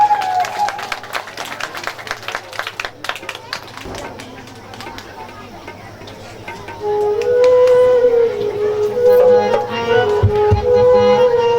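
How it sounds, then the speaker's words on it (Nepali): Audience applause honouring a donor at a Srimad Bhagwat Mahapuran religious discourse gathering in Nepal, with a burst of loud clapping that swells and continues steadily alongside music and voices. "सम्मानको लागि जोरदार ताली बजाएर"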